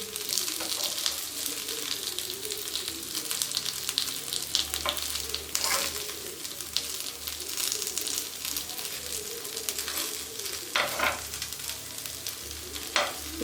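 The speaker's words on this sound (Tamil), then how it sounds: "இது நல்லா 2 பக்கமும் ஃப்ரை ஆகிட்டுருக்கு." Pieces of Amritsari fish tikka frying in a pan after being turned to cook both sides, a soft continuous sizzle with occasional sharper crackles and faint background voices.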